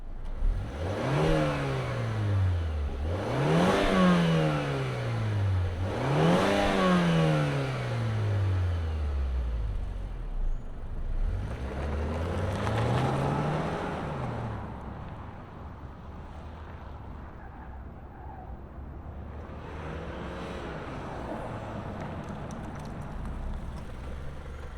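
A 2025 Mazda CX-5 Signature turbo AWD engine, heard close up, revs hard several times in rising and falling sweeps, then settles into a steadier idle with some wind noise.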